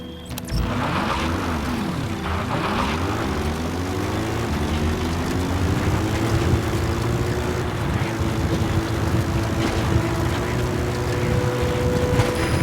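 Engine and rotor drone of a helicopter flying in Metal Gear Solid 5: The Phantom Pain, a loud, sustained mechanical hum with shifting, sweeping tones, without talk.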